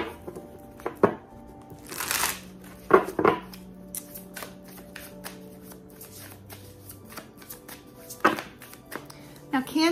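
Tarot cards being shuffled by hand in several short riffling bursts with scattered taps and slaps, close and fairly quiet, with a voice talking between the bursts.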